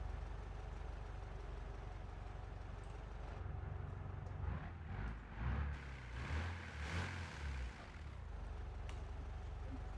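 Volkswagen Gull car engine in a BeamNG.drive mod, a low steady idle with a few brief blips of revving midway, fairly quiet and without talk.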